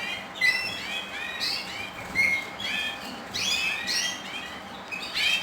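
Small birds, bullfinches among them, chirp and tweet repeatedly in a breeder's aviary with large cages, bright overlapping calls arriving in quick bursts close by with no talking.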